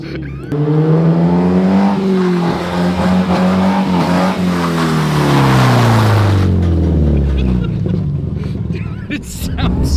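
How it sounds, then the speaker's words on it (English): An untuned rear-wheel-drive Honda Civic accelerates hard with its engine climbing through the revs, loud and near, then fading as it eases off, with tire noise mixed in. "It sounds so much like a Honda. Completely untuned."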